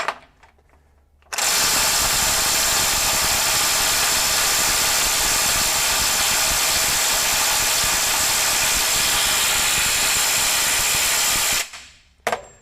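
A RIDGID SubCompact impact wrench runs in one long, loud continuous burst of roughly ten seconds on a stubborn bolt that won't loosen, starting abruptly after a quiet moment and cutting off near the end.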